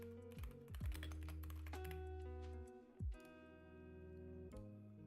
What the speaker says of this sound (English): I don't know how loud my clacking is, by the way. My keyboard.